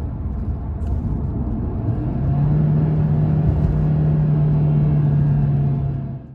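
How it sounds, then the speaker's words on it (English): An Audi car engine rumbles as it downshifts through a few gears, then climbs into a rising, sustained rev toward redline before the sound fades at the end. No one speaks. "change down a few gears, and then redline"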